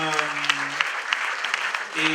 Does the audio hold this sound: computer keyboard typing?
no